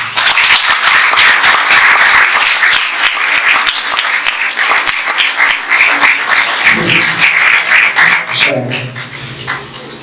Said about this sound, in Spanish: me gustaría, por lo tanto, dedicarle el aplauso que se merece al 2 veces presidente de la República, Julio María Semínez.